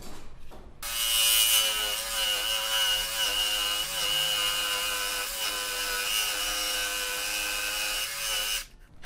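An electric jigsaw saws through wood for a wooden cornice fascia, giving a loud, close, buzzing rasp that holds steady for about eight seconds before the motor stops.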